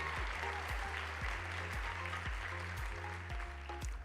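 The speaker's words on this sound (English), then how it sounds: "Please give a round of applause to your judges" Applause for judges at a Dearborn innovation night event, faint crowd clapping heard at a distance alongside a repeating low thumping pulse, likely music in the hall.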